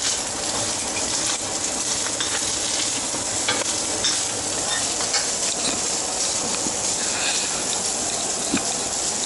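Phillips crab cakes sizzle steadily in their own juices in a pan, a loud continuous frying hiss with faint pops and crackles throughout, no talking.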